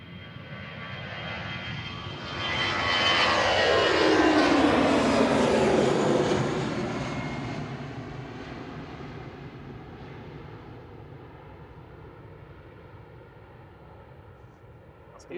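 A jet airliner climbs out of Manchester Airport bound for Newquay, its engine roar swelling to a loud peak as it passes close by, then fading into a steady distant rumble. A faint sweeping whine glides down as it goes.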